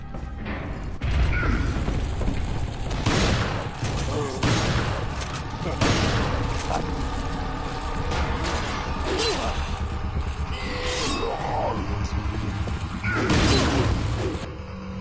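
Bursts of gunfire in Resident Evil 4 crack repeatedly amid mechanical clanks and booms, dense and irregular throughout, with a voice occasionally talking over it.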